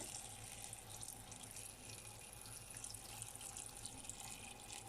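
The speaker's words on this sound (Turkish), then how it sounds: "arıtma biraz az yavaş aktığı için geç doluyor" Water from a slow-running purifier trickles into a container in a home, a faint continuous stream with light splashing and no voices.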